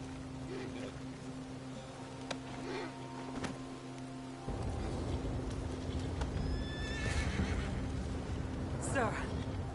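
A horse in the video game Red Dead Redemption II whinnies loudly near the end over steady ambient drone, with hoof sounds and voices mixed in.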